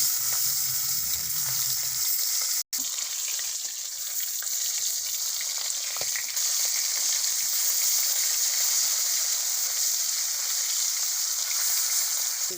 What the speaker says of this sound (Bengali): লবণ হলুদ মাখিয়ে কড়াই হয়ে গেছে, মাছটা ভেজে নেব।